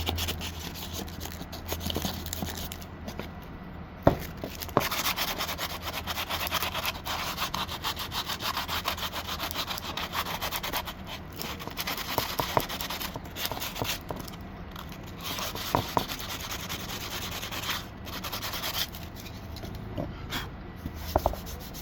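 A concrete bird bath being scuffed by hand with 150-grit sandpaper, making continuous rasping, scratchy strokes in an uneven rhythm, close up, with a few brief knocks and pauses between passes.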